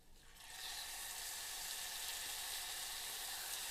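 Baby bok choy searing in a hot pan, a bright, hissing sizzle that jumps up as the greens hit the oil and then holds a steady, close crackle with no talking.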